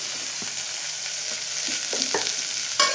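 Carrots and onions fry in a pan for a ghee vegetable khichdi, a steady close sizzle broken by scraping, clinking stirs that grow busier toward the end.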